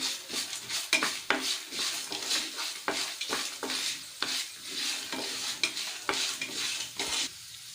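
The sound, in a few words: cumin seeds frying in pan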